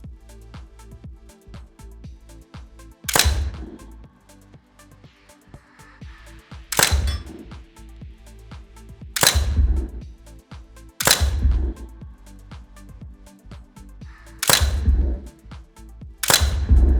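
Simulated gunfire on a virtual shooting range system: a series of six sharp cracks spaced a few seconds apart, each followed by a brief ring or thump as hits on steel or dirt register, with quiet background between shots.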